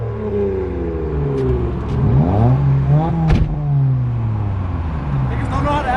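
Modified Infiniti G35 at a car show revving through an aftermarket exhaust, a close engine note that climbs and falls in a few pulls while voices talk nearby.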